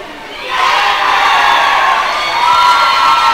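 A high school girls' basketball crowd in a gym cheers and shouts, the noise rising quickly and holding loud and sustained, with excited young voices whooping together.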